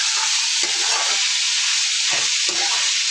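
Green peas and green chilies fry in a pan with a dense, even hiss of oil, nearby and steady, with faint stirring pulses and no speech.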